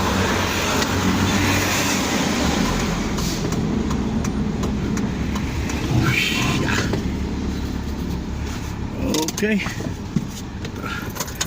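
A parked car's engine idles in a steady, loud rumble that fills the scene before it is shut off, with a person speaking briefly over the noise.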